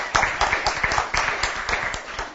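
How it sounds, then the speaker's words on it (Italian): Applause for a young winning cyclist at a youth road race in Rosà: dense, continuous clapping from a crowd, steady and moderately loud throughout, with some talk mixed beneath. "Un applauso perché è pragmatico"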